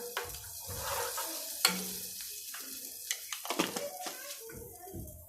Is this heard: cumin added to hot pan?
yes